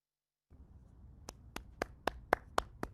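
A single person clapping at an online member meeting welcoming a new executive director, seven slow, distinct, close claps after a brief silence and faint room noise.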